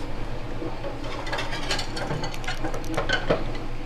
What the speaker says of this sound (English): Chinese cooking, they use cornstarch versus flour all the time for thickening. So I'm going to stir that up